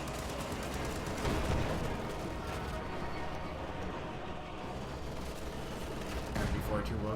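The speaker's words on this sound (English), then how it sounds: "MG42 will get the suppression off." Sustained gunfire from an MG42 machine gun laying down suppressing fire in Company of Heroes 2, a dense, steady clatter of shots mixed with other battlefield firing across the whole stretch, with talk running over it.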